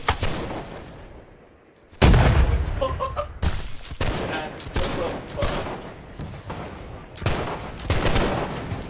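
Musket volleys crack out in a Holdfast: Nations At War line battle: a ragged run of loud, sharp gunshots after a quiet start, with booming reports and voices scattered among them.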